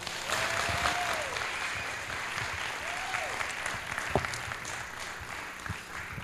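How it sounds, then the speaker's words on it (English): Audience applause at the Bonfire Heights 2011 event welcoming speaker Chelsie Hill: steady, dense clapping from a crowd filling the whole stretch at an even level, with a faint voice briefly audible beneath it. "So give her a big round of applause."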